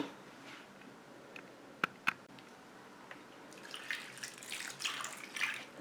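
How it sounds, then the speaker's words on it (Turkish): Drinking water is poured over a quince dessert, a soft splashing pour that starts halfway through after a few faint clinks and continues moderately loud to the end. "Üzerine biraz içme suyu döküyoruz"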